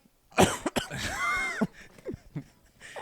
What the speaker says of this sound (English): He has been nonstop coughing.